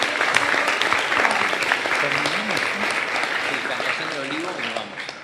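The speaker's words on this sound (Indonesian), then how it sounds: "Tepuk tangan." Audience applause during Pope Francis's meeting with teachers and young people, steady dense clapping throughout with some voices underneath.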